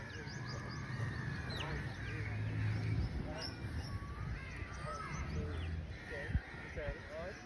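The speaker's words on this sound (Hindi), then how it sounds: "और ये कौवे आना शुरू हो गए" Crows caw repeatedly in Karachi, Pakistan, their harsh calls overlapping at moderate distance over a dense outdoor backdrop while a person talks throughout.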